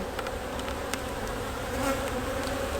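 Agitated honeybees from a queenless hive swarm over a beekeeper's hand, giving off a loud, dense, unbroken buzz at close range with no talking.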